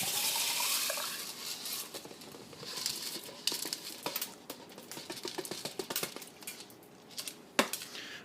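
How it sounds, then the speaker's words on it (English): Bio pellets are poured into an aquarium bio pellet reactor, giving a close, crinkly patter of many small pieces rattling and sliding in, loud at first and then thinning into scattered clicks and one sharp knock near the end. "Alright, so I will pour in the pellets."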